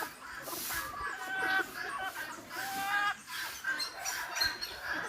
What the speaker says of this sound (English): These are the miniature chickens that they normally use in cockfights.